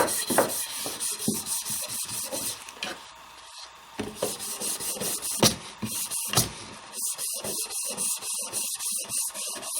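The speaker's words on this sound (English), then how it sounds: "permanently scar the handle up with a bunch of scratch marks from the wire brush" A stiff wire brush scrubs along a wooden Viking axe handle during refinishing, giving steady, close rasping strokes with a few sharper scrapes and short pauses, heard alone.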